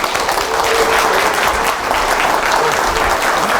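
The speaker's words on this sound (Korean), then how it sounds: "다시 한번 큰 박수 부탁드리겠습니다" Steady, dense applause from a large audience fills the room after a Korean political party's presidential nominee finishes a speech, continuous and loud throughout.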